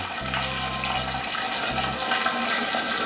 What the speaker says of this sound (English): I'm going to pour my tea kettle right into my jar that has the green tea and the infuser.